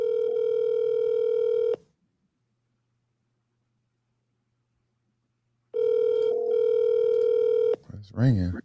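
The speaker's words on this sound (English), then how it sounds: "It's ringing." An iPhone places an outgoing call and the ringback tone sounds twice, each steady ring lasting almost two seconds with a long silent gap between them. A voice begins just after the second ring.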